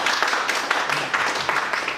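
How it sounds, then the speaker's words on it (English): Audience applause for a guest architecture lecturer named David at an architectural center, a steady, dense wash of clapping filling the room at moderate level, with no talk over it. "please give him a round of applause"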